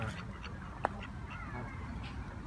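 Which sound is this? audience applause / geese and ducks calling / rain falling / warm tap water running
geese and ducks calling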